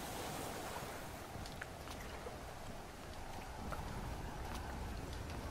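Ocean waves wash steadily around a raft sailing in the survival game Stranded Deep, a faint continuous surf-and-wind hiss with no talking.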